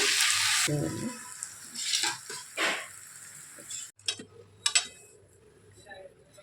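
Food sizzles and crackles in hot oil on a stove with occasional stirring clinks, a voice speaking briefly, before the frying noise drops away.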